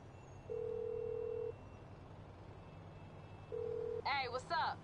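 A phone call ringing in the GTA Online video game: two steady, flat ring tones, the first about a second long and the second shorter after a pause, followed by a voice talking briefly over faint background hum.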